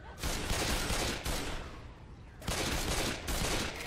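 Gunfire from Left 4 Dead 2 comes in two dense bursts of rapid automatic shooting separated by a short lull, loud and close.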